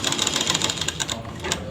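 An electric sewing machine stitching a panel of a ladies' pant runs in a steady rapid whirring chatter, close and moderately quiet, with no talk over it.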